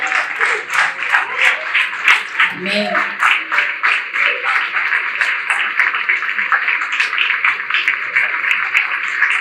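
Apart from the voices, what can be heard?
congregation applause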